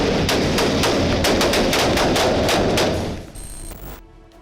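Rapid bursts of assault rifle gunfire from a Mexican military raid on criminals, loud and sustained automatic fire close by for about three seconds, then tapering off as the shooting stops.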